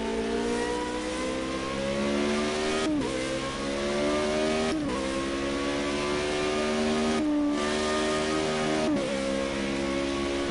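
Formula Renault 3.5 race car engine in Project Cars 2 screams steadily at high revs, pitch climbing through gears with brief dips at each upshift, loud and close throughout.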